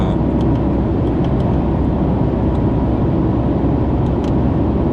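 A car accelerating, heard from inside as a steady, loud low engine and road rumble that holds constant without clear rises, with no talk.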